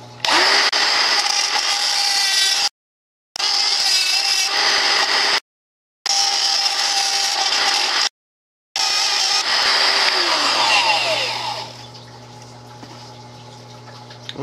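A power tool bit cuts through PVC pipe in several loud, sustained bursts separated by brief silences, with a whining high-pitched grind; the tool then spins down to a low hum at the end.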